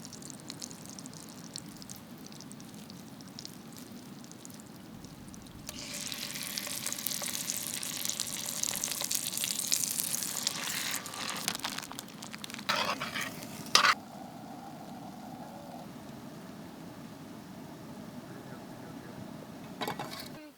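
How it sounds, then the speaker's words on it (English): Salmon roe and scraped salmon meat fry in a pan at an Alaskan fish camp, a soft sizzle that swells into a louder hiss midway, with faint stirring and a sharp clink before it settles. "We're just gonna take some roe and some of the meat we scraped from the bodies and fry them up in a pan"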